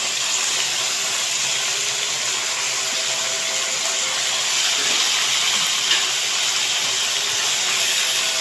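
Mutton intestines fry in a pan with onion and curry leaves, giving a continuous loud, close sizzle and hiss that holds steady throughout with no voices.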